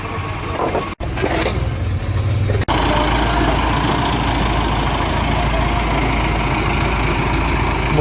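A tractor engine rumbles continuously and loudly nearby while turning, a low steady drone with a couple of brief dropouts early on.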